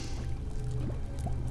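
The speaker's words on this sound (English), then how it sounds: "you can hear the bubbling of the black cauldron on crab legs" A black cauldron bubbles on crab legs, giving soft wet pops and gurgles over a low, continuous rumbling background with no talking.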